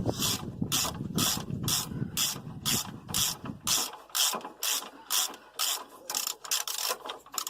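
Close, loud ratchet wrench clicking rapidly in even bursts as a brake bolt is loosened on a Renault Scenic's front brake, first with a heavier rumble under it, then crisp clicks alone.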